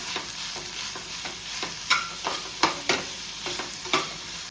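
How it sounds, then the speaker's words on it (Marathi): Tomatoes stirred into egg bhurji in a frying pan, with rhythmic spoon scrapes and knocks about every half second over a soft steady sizzle, close and clear, with no talking. "आता घालता टमाटे, ते बरे मिक्स करून घेता."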